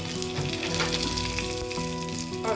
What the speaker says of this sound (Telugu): జీలకర్ర ఆవాలు కొంచెం వేగిన తర్వాత అలా ఎండుమిర్చి ఒకటి వేస్తానండి.